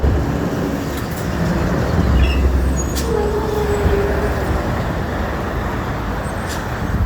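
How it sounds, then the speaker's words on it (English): Heavy freeway traffic roars as a dense, continuous rumble from inside a moving vehicle, loud and unbroken, with faint higher squeals briefly rising over the steady road noise. "It is heavy traffic."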